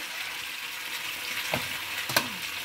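Plum chutney cooking in a pan, with a steady soft sizzle and two brief scraping strokes from a stirring spoon near the end.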